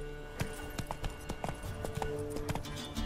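Roach, Geralt's horse in The Witcher 3, galloping: rapid, steady rhythmic hoofbeats, close and continuous over a low ambient game backdrop.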